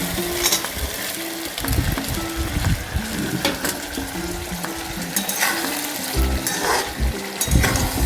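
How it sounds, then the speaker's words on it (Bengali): Fried potatoes and meat sizzle steadily in a pan while being stirred, with continuous close frying hiss and scattered scraping clinks of the spoon against the metal throughout. "ভেজে রাখা আলু আর মাংসগুলো দিয়ে দেবো। ভেজে রাখা আলু মাংসগুলো দিয়ে দেবো, দিয়ে ভালো করে কষতে হবে।"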